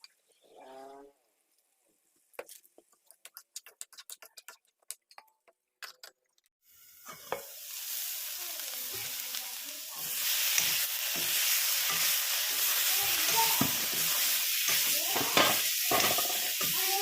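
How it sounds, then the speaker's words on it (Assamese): Bhedailota leaves frying in a pan for an Assamese dish with dried fish: a few soft stirring clicks and scrapes, then a steady loud sizzle that swells and keeps crackling to the end, with no talk. "অকণ পিছত চাব, ধুনীয়াকৈ ভাজি ল'ম।"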